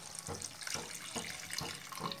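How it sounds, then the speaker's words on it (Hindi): Milk being poured into a pan of fried chicken curry masala makes a steady, close liquid splashing and gurgling with a faint rhythmic pulse. "अब हम इसमें दूध डाल देंगे,"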